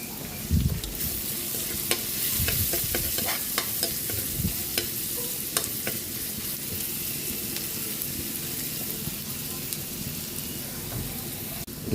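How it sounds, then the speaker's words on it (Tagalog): Oil heating in a pan for fried chicken, crackling and sizzling steadily with scattered pops and scraping stirs throughout, close and fairly loud, with no talking. "Habang nagpapainit tayo ng mantika para sa ating fried chicken."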